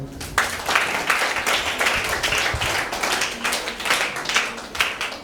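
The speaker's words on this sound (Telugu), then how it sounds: "చప్పట్లు కొట్టండి" Congregation clapping during a church sermon at a pre-Christmas celebration, with dense, sustained applause from many hands filling the room for several seconds, fairly loud and close.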